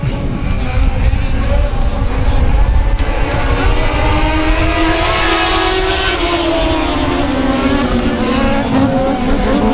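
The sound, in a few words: race cars on the back stretch at South Texas Speedway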